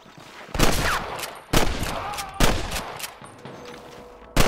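Gunshots in the Western video game Red Dead Redemption: loud single cracks spaced about a second apart during a shootout, with faint background chatter between shots.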